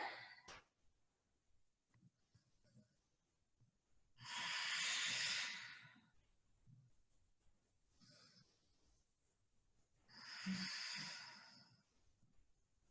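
Two long, airy breaths in a quiet yoga forward fold, each lasting about two seconds and spaced several seconds apart, close to the mic with soft rustles between and no talking.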